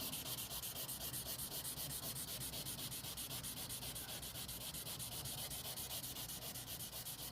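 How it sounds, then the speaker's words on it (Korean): Putty on the lower bumper of a Hyundai Equus is wet-sanded by hand in a steady fast back-and-forth rubbing, close and continuous with an even rhythmic rasp and no talking. "이 퍼티의 면을 부드럽게 만든다라는 느낌으로 이렇게 샌딩을 해주시면 될 것 같습니다"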